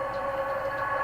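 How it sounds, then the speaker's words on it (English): A fast train's steady tonal hum and rumble, loud and constant across a brief moment with no voices. "This is actually a good train, actually, because this is a fast train."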